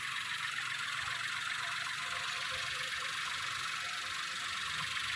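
A used car's engine idles steadily with a broad, rough hiss and a low rumble, unchanging throughout and heard up close.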